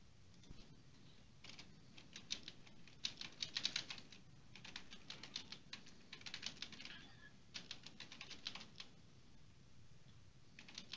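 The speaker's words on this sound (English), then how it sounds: "we are live and on the air with the person typing on their extremely loud keyboard" An extremely loud computer keyboard clatters in fast, uneven bursts of sharp key clicks with short pauses between them, close and alone during a tech news livestream.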